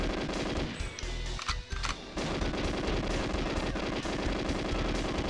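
Gunfire in the GoldenEye video game on the Frigate level: a steady rapid automatic stream of shots that pauses briefly near the start and then resumes, loud and continuous.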